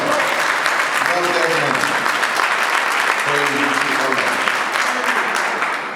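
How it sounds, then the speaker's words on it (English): Sustained applause from an audience at an award ceremony honoring someone, dense and loud throughout, with a voice speaking over the clapping and a few cheers mixed in. "Give him another round of applause."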